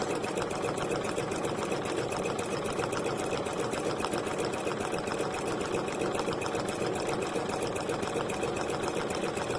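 A sewing machine runs steadily, stitching down the center of a zigzag satin stitch line, a continuous fast mechanical whir and rattle with no pauses and no voices.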